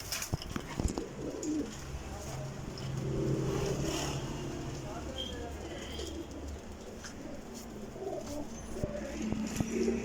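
Pure desi pigeons of the Pipla breed cooing nearby, low soft repeated coos over outdoor background noise with a passing car and occasional clatter, faint voices now and then.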